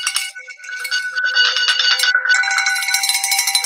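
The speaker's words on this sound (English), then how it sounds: "So they always started off by ringing the bell." A bell rung in honor during a ceremony, sustained loud ringing tones repeating close up for several seconds with no talk.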